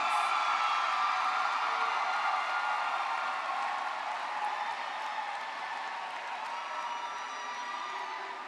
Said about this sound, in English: join me in giving all parents a round of applause